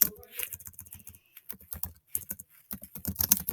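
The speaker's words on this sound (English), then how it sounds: "So you click tab to indent, and so this is where you start typing" Rapid, uneven clicking of keys on a computer keyboard, close by, in short bursts with brief pauses between.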